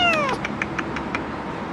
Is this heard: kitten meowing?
yes